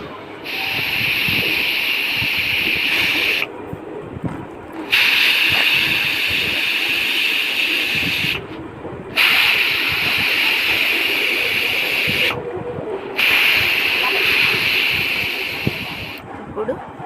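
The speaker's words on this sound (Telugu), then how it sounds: "ఇప్పుడు మూత పెట్టుకొని కుక్కర్ 4 విజిల్స్ వచ్చే వరకు స్టవ్ మీద పెట్టుకుందాం" A pressure cooker sits lidded on a stove, letting out loud, steady jets of hissing steam in long bursts, each broken by a short pause before the next one starts.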